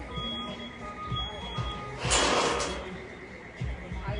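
Alarms sounding inside a ransacked pawn shop in the Bronx, steady electronic tones that sit under a noisy background with a louder burst midway, heard from a short distance without clear speech.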